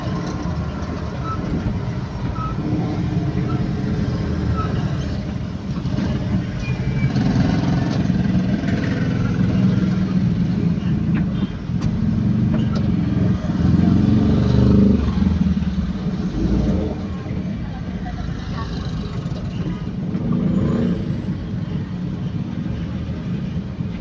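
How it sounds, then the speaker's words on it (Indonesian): Heavy, slow Saturday-night traffic of cars and motorcycles filling all four lanes of a busy business-district road in Manado, heard as a steady, loud, close engine rumble and drone with no pauses. "4 jalur penuh semua dan jalan lambat."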